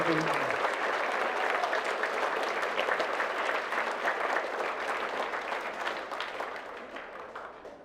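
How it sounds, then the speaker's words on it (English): Applause from a school band and choir concert audience, a full, dense wash of many hands clapping that holds steady for several seconds before slowly fading out. "just give her a round of applause as well"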